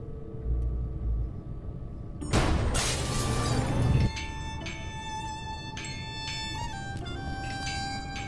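Glass above a lab door in the video game Gibbous shatters in one loud burst of crashing and breaking, followed by scattered tinkling shards and a soft game tone.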